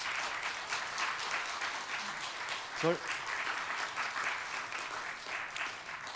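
Church congregation at a Sunday service applauding during an award presentation, steady soft clapping throughout at moderate distance, with a brief voice in the middle.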